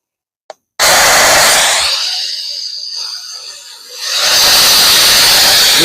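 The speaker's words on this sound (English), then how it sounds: "This is a spirit box. You got to turn it on here." A spirit box is switched on after a brief click and bursts into loud, hissing radio static, thinning to a softer sweep in the middle before the harsh noise swells back.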